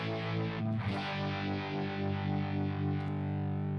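An electric guitar played through a Spark amp with a chorus effect rings out in sustained, shimmering notes with a wavering modulated tone, close and clear with no talk.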